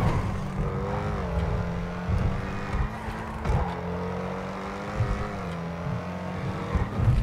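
A car driven in GTA V hums steadily and close, its engine pitch rising and dipping with throttle changes over several seconds.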